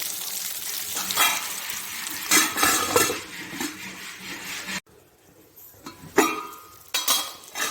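Stuffed brinjal sizzles in a pan over low heat with no water added, a bright continuous crackle interrupted by stirring clatter and one brief lull before the frying noise returns.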